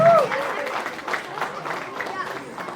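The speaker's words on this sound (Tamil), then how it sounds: "எங்கே உங்கள் கரகோஷம் மீண்டும் ஒரு தடவை அந்த பெற்றோருக்கும் அந்த ஆசிரியர்களுக்குமாக" An audience claps for parents and teachers at a Tamil New Year community celebration, scattered applause continuing beneath a presenter's speaking voice.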